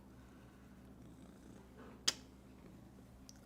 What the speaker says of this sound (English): This is a badass cat.